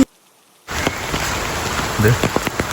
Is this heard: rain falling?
yes